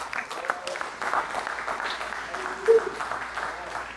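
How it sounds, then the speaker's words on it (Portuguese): A church congregation claps together during a worship service, a sustained wash of applause under a preacher's voice, moderately loud and steady. "Vamos aplaudir o Senhor Jesus."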